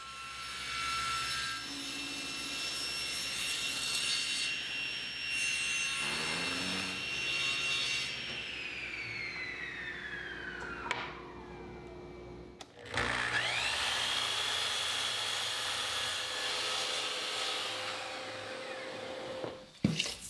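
A woodworking machine with its fence set squares up wooden legs for an outdoor garden bench: a loud, steady motor roar with whining tones that sweep in pitch, briefly dropping out partway before the cutting noise resumes, with no talking.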